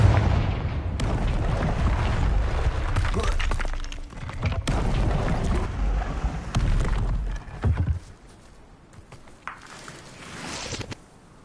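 Confringo fire spell explosions in the Hogwarts Legacy video game, a series of booming, shattering blasts that fill most of the clip before fading into quieter rumbles and scattered crackles.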